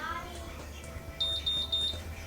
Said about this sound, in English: now it's beeping, these single beeps